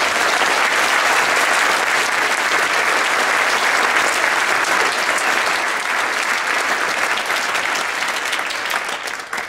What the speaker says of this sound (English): I just want to give them a round of applause for all of that.